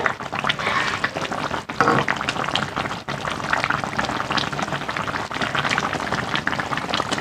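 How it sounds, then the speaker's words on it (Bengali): A pot of live rohu fish curry boils vigorously nearby, a constant dense bubbling roar with a couple of brief dips, no talking. "দেখো তরকারিটা আমার ভালোভাবে ফুটে গেছে"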